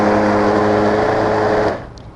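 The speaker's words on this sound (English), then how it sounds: "gonna blend my beans." Beans for hummus are blended in a blender: a loud, steady motor whir close by that cuts off near the end, with no talking.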